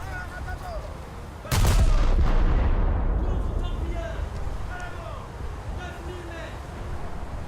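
A British destroyer's naval artillery in a warship video game fires a single loud, booming shell salvo. The blast rumbles and fades into lingering wind and water noise, with faint talk underneath.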